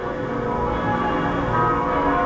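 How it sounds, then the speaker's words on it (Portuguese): Church bells ring at the Notre-Dame cathedral in Lausanne, Switzerland, a steady layered peal of sustained tones that fills the whole stretch at a moderate, even level. "Estão ouvindo aí, pessoal, os sinos da igreja,"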